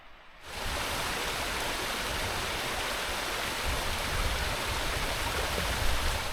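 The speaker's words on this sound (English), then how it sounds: "Got kind of a waterfall there." A steady, full rush of falling water from a waterfall beside a clear mountain lake on the Miners Track in Wales, constant and fairly close, with no voices.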